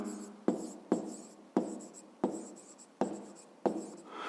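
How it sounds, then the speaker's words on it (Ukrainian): A pen or chalk writes a maths answer in short strokes, six or seven distinct scratchy bursts at a steady pace, close and quiet with no talk. "пишемо МК"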